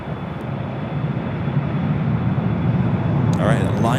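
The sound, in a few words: airliner taking off from LAX runway 24 left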